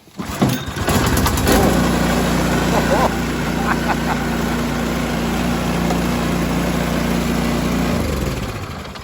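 A pull-start snowblower engine with the choke on and no priming catches after a brief sputter, then settles into a loud, steady idle that holds for several seconds before cutting out.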